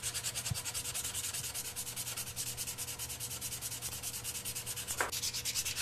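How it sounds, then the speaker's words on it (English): Close, steady hand sanding of a carved knife handle made from a saw blade, using 150 grit sandpaper: fast rhythmic back-and-forth rasping strokes fill the whole stretch, with a soft tap near the start and another near the end. "I started with 100 grit sandpaper, and this is a 150."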